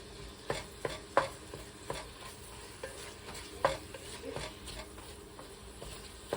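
Sage sausage browning in a pan, a quiet steady sizzle broken by scattered scrapes and taps of a utensil stirring the meat.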